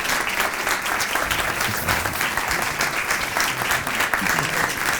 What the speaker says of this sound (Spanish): qué menos que recibirle, además de con todo el cariño, con un aplauso.